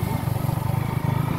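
A small documented motorcycle idles or runs steadily out in the bush along a tractor track, a loud, close, throbbing engine pulse with a regular beat and no voices.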